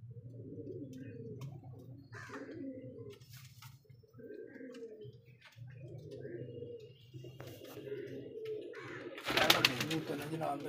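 Pigeons cooing close by in a run of repeated soft, throaty coos with short pauses between them, followed near the end by a brief burst of louder broadband noise.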